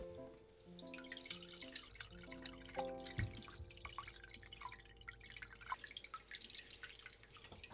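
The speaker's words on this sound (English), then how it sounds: "I wash out the rice bran carefully" Fresh bamboo shoots are rinsed in water to wash off rice bran, giving soft, faint splashing and dripping in a kitchen sink over quiet background music.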